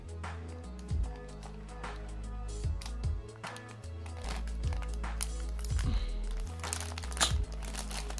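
Sealed plastic packaging of a Tatsumi Oga action figure with Beelzebub on his shoulders crinkles and crunches up close as scissors snip it open, in a steady run of sharp cuts and rustles.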